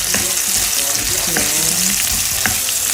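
Onion frying in a pan with bacon, a steady sizzle running throughout with occasional stirring scrapes; a voice speaks one short word.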